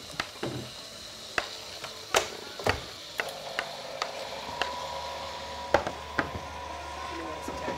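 Chicken stroganoff with mushrooms fries in a pan, a soft sizzle under scattered clicks and taps of utensils and cookware, fairly close.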